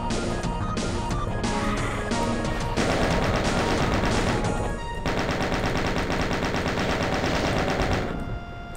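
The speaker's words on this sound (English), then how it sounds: "we're going to chain gun the rest of this because there's just that one lost soul" The chaingun in Doom II fires in a sustained, loud, rapid stream of shots with brief breaks, layered over game music and effects.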